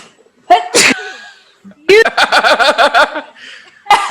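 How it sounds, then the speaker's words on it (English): A single loud sneeze, followed by a short pause and then a burst of chuckling laughter. "I was about to sneeze."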